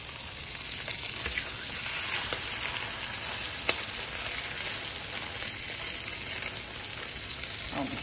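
A salmon fillet frying skin side down in a pan over low heat gives a steady, gentle sizzle that runs continuously and fairly faint, with a couple of small clicks and no talking.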